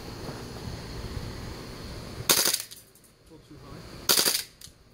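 Two loud rifle shots ring out during outdoor target practice, sharp cracks about two seconds apart over a steady background hiss, each followed by a brief decaying echo.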